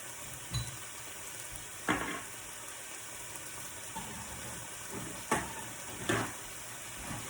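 Meat browns in a pan for Thai green curry, a steady close sizzle broken by a few sharp scrapes and clatters as it is stirred at irregular intervals.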